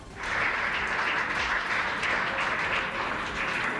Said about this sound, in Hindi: जहाज पर मौजूद लोगों ने तालियां बजाकर उनका स्वागत किया।